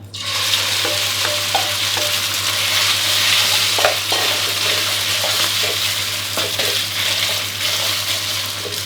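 Marinated pork sizzles and crackles in hot oil over high heat while a utensil stirs and scrapes the pan, loud and continuous.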